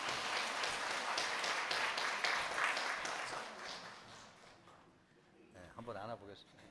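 Congregation clapping during a Sunday service at a church, steady applause that thins out and fades, followed by a brief voice as it ends.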